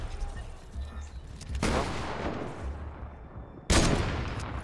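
Two loud bursts of gunfire in a Fortnite Battle Royale match, the first a long sustained rattle and the second a sharp, heavy blast near the end, over a low rumble of game sound.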